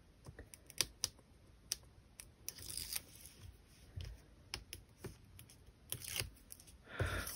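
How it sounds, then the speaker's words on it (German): Protective film is peeled off craft material for a sliding-lid box, heard as close crackling, tearing rips and small scratchy clicks in uneven bursts, with no talking. "So, jetzt kommt hier die Folie ab."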